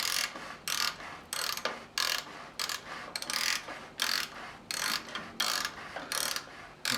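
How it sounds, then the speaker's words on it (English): Socket ratchet clicking in quick repeated bursts while easing off the oil filter on a Harley-Davidson Fat Bob, close and crisp with short pauses between strokes. "my ratchet just goes on the outside of the gear changer there"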